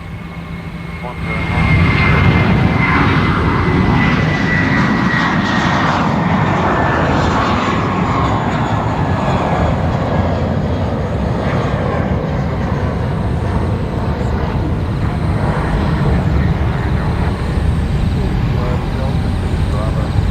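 An airliner departs Brisbane Airport, its engine roar swelling in after a couple of seconds and holding loud and steady, with a faint whining tone slowly falling beneath the broad rumble.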